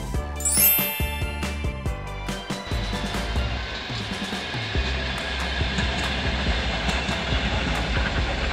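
An electric commuter train passing close by, opening with a bright ringing chime before settling into a steady rolling rumble of wheels on rails.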